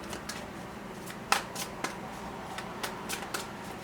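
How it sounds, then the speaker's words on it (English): Cards riffle and snap in a series of quick, crisp bursts, close up and fairly quiet, with a soft ticking between shuffles. "Right, clean shuffles."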